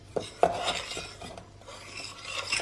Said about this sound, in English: Just keep stirring, help the chocolate along, and make sure that it doesn't stick.